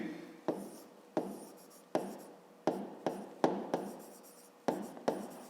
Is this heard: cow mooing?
no